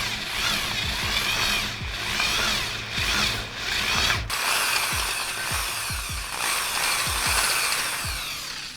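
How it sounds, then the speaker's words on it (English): A power drill bores bolt holes through a scooter deck, a close, steady whine with repeated grinding bursts as the bit cuts through and is pulled back, with no talking. "just drill from the bottom so we know there's not going to be any issues with alignment"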